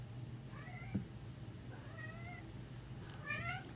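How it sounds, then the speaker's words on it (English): A house cat meows three times, each call rising then falling, fairly faint and close-ish over a low steady room hum, with no talk. "My cat's going crazy."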